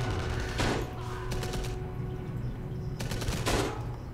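Rapid machine gun bursts in the World War II shooter game Enemy Front, with two or three clusters of fire over a constant low background rumble.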